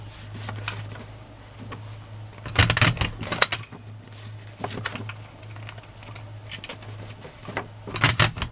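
Paper journal pages being punched for wire binding, giving a few sharp mechanical clunks and clacks in short bursts over a steady low hum, with quieter rustling of paper between punches.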